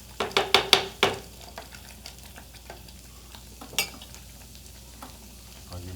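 Vegetables sautéing in a pan with asparagus and polenta cooking nearby: a steady low sizzle runs throughout, opened by a quick burst of sharp clatters and stirring scrapes, with a few more scattered knocks later.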